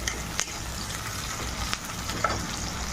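Onions and dried red chillies sizzle and crackle steadily in hot oil in a heated wok, with a few sharp scraping clicks as they are stirred.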